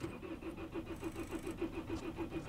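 A car engine, started in snowy weather, runs in a quiet, steady idle with a regular low pulsing rhythm, faint and close, with no voices.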